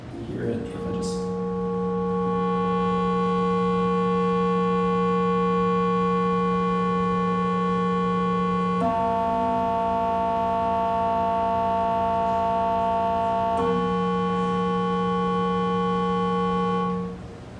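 A steady frequency-modulated synthesizer tone drones with rich buzzing harmonics, holding loud and continuous for many seconds, its pitch stepping abruptly twice before fading out at the end.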